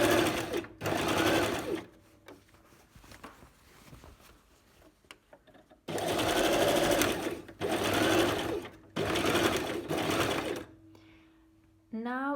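A sewing machine stitches a blouse neckline facing in steady, loud whirring runs, one short burst and then several longer ones separated by pauses where someone talks.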